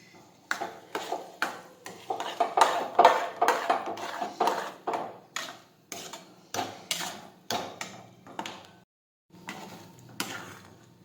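Repeated metal clinks and scrapes of a spatula stirring urad dal in a pan, sounding as a steady series of sharp knocks about once or twice a second, moderately loud and close, with a short pause near the end.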